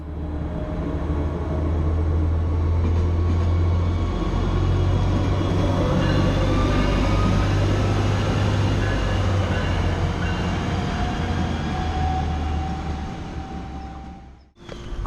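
A diesel light rail train runs down the middle of a town's main street, a loud, steady engine rumble with rolling wheel noise that holds close, then cuts off abruptly near the end.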